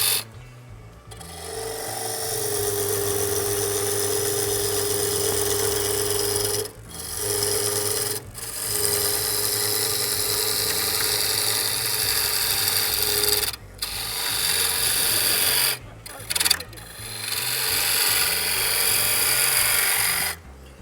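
Gouge taking heavy cuts on a large wooden bowl spinning on a 2 horsepower lathe, a loud steady rasping hiss over a low motor hum, broken by several brief pauses between passes.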